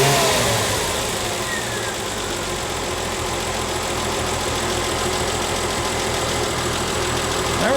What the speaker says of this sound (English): So let me give it a couple throttles.